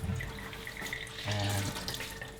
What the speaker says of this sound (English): just run it under cold water